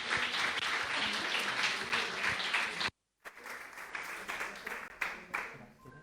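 Audience applause welcoming a guest speaker before a talk on stress and cancer, sustained clapping with a brief gap midway, then resuming somewhat quieter.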